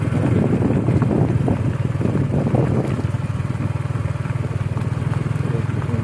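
A motorcycle engine drones steadily at close range near Maligaya Dam, loud and continuous, with a rapid low throb and some wind noise.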